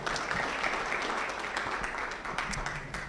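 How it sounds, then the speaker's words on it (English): A crowd at a national launch event for the Thamani ya Binti initiative applauds, a continuous wash of many hands clapping for several seconds. "A stronger round of applause to Mr. Peter Monene"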